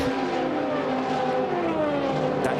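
An IndyCar race car engine on an oval track, a loud steady high-pitched engine drone with pitch slowly falling as the car passes, continuous and without talking.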